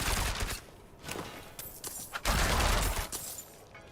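A small machine gun fires in a video game, with dense rapid bursts broken by brief gaps over a few seconds, loud and close, and no talking.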